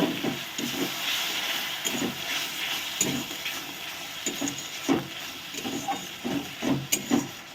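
Tomato paste added to a frying spice mixture for an egg and potato curry hisses and sizzles steadily, with intermittent scraping and clatter from stirring in the pan, close by.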